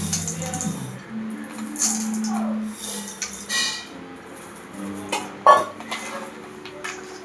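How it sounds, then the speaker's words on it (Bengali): Fried bori, small sun-dried lentil dumplings, tumble into a dish with a run of light clinks and rattles against the bowl, under a low background murmur with one sharper knock near the end. "বড়ি ভাজাগুলো এবার ঢেলে দেবো"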